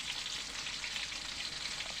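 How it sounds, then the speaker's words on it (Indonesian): Cassava frying in oil in a pan gives a steady, dense sizzle, close and continuous throughout, with no voices. "Jadi singkongnya sekarang kita goreng."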